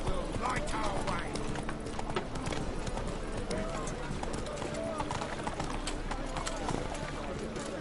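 Roach, Geralt's horse in the video game The Witcher 3, gallops with a steady clip-clop of hooves running continuously beneath game music, ambient noise and scattered speech.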